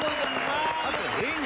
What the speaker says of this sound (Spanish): pues un aplauso a Ricardo